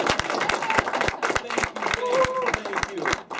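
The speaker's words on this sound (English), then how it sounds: "Give a big round of applause to Liz Malagisi." A club show audience applauds its newly introduced club president: dense, steady clapping fills the room throughout, with a few voices and brief tones mixed into the crowd noise.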